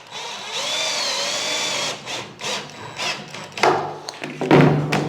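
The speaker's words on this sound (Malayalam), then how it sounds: "ഇതിന് മുകളിൽ നിന്ന് താഴോട്ടേക്ക് സ്ക്രൂ ചെയ്ത് കൊടുക്കും." A power drill drives screws into a foam board kitchen panel, whirring steadily for about two seconds at close range, then short bursts and clunks of handling follow.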